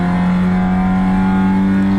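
Race car engine at full throttle on the flat stretch toward Big Bend at Circuit of the Americas, a loud, steady, close in-car drone with strong harmonic tones that rise slightly before cutting off abruptly.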